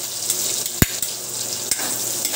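Garlic and onion sizzle in a pan for pork menudo, a steady frying hiss broken by a few sharp utensil knocks and scrapes, with no talk.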